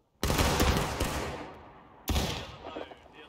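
A company fires a musket volley in the War of Rights game, two loud, massed blasts about two seconds apart, each a ragged crackle of many shots that fades into echoing rumble.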